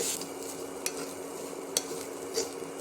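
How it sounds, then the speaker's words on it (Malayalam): Raw mango chammanthi powder being stirred in coconut oil, a faint, steady frying hiss with three sharp scraping taps of the spoon against the pan. "ഇതിനി നമുക്ക് കുറേ സമയം വരെ ഇളക്കി കൊടുക്കാം"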